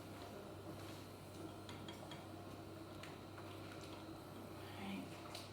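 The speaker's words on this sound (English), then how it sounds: "Just keep stirring this, and it's melting all your chocolate" Chocolate being stirred as it melts in a bowl for brownies, with faint, quiet scraping and clinks of a utensil against the bowl repeating softly and steadily.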